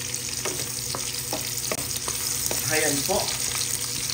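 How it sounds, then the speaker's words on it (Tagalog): Garlic sautéing in a hot pan for ginisang ampalaya gives a steady, close sizzle with scattered stirring clicks and scrapes throughout, and a voice speaks briefly. "Inuna ko po ang ating bawang. Igisa lang po natin."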